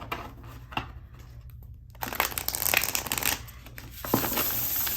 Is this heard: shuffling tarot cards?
yes